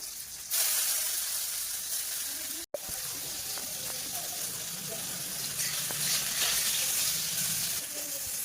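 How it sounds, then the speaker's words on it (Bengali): Dried hilsa fish cooks in a pan with a loud, continuous broadband sizzle and hiss close by. The sizzle is broken only by a brief dropout near the middle. "ইলিশ শুটকি রান্না করছি। কি শুটকি? ইলিশ শুটকি যাবে, ইলিশ মাছের শুটকি।"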